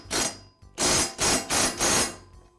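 A bolt on a Husqvarna lawn mower blade being tightened against the adapter: five short, loud, rasping bursts close by, the last four in quick succession, with no talking.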